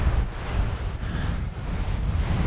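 Surf washing in on the tide at the seashore in Skegness, a steady rushing hiss of waves mixed with wind buffeting the microphone, with no speech.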